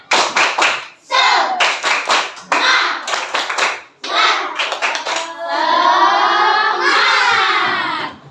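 A classroom of children performs the 'tepuk semangat' clapping chant: bursts of rhythmic group claps alternate with loud chanted children's voices, ending in a sustained shout.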